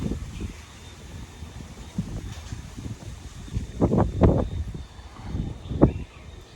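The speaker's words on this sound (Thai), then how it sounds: "โอ้ลมแรงมากใช้เป็น" Strong wind gusts through a tamarind tree, a rushing, rustling swell with bursts of louder buffeting in the middle of the stretch.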